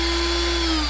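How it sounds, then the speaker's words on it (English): A power drill runs at reduced speed, giving a steady, loud motor whine with a constant hum and no change across the short span. "let me reduce this on the drill."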